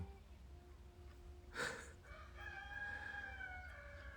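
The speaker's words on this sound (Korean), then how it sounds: "왜 오후 1시에 수탉이 저렇게 우는겨" A rooster crows once in the early afternoon, a single mid-distance cock-a-doodle-doo with a sharp start and a drawn-out wavering tail, heard through an open window over a steady low background hum.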